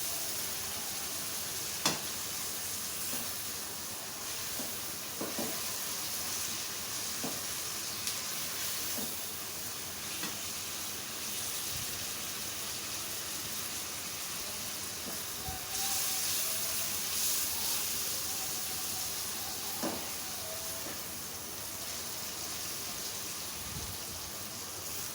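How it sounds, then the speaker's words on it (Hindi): Onions frying in a pan toward light golden for a mutton kaleji masala, a steady broadband sizzle with faint stirring clicks and occasional pops running throughout without talk. "पहले प्याज को अच्छी तरह से लाइट गोल्डन सा करें, सौते से थोड़ा सा बेहतर करें"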